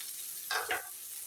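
Raw sliced onion dropped into a little hot oil while cooking flat beans, giving two quick bursts of sizzling over a steady faint hiss, no voices.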